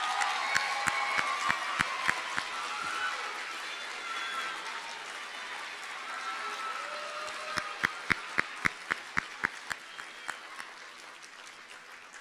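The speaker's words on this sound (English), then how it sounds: "Please join me in recognizing all of them with one more round of applause." Audience applause at an MLK oratory competition, a broad wash of clapping from a seated crowd that rises again with a burst of louder, distinct claps toward the end, moderately distant in a hall.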